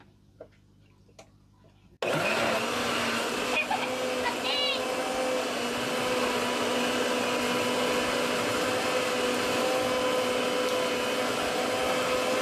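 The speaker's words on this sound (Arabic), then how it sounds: "نقفل بقى الخلاط" An electric blender whirs loudly and steadily while mixing chocolate sauce for a cake, starting abruptly after a quiet moment and holding a constant motor drone to the end.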